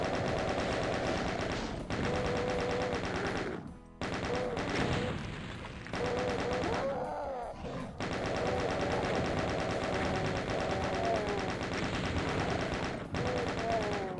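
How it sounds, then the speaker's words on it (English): A plasma gun fires continuously in the video game DOOM, a dense, loud stream of rapid energy shots with brief pauses, layered over in-game music and effects. "Maybe with plasma gun. Which still makes a cool noise."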